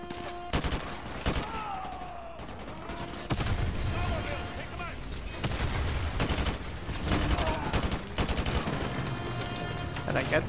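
AK rifle gunfire in the video game Modern Warfare 2 Remastered, a string of sharp automatic bursts and single shots over battle noise, with a player's voice talking on and off in between.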